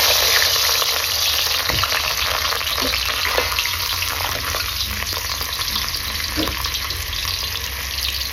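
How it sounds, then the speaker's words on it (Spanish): Vegetables for sweet and sour shrimp fry in a hot pan with a loud, continuous sizzle, a steady hiss that stays constant and close throughout with no one speaking. "Entonces lo vamos a freír un poco."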